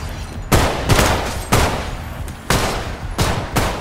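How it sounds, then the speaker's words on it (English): Rifle gunfire in a shooter video game, a series of about seven loud, sharp shots in irregular bursts, each followed by a brief decaying tail. "That rifle did a lot of damage."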